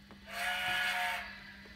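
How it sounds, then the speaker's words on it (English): A DCC sound decoder on a model train locomotive plays a single sustained steam-style whistle, clear and fairly close, lasting about a second over a faint steady electrical hum. "when we go forward, we'll hear the whistle."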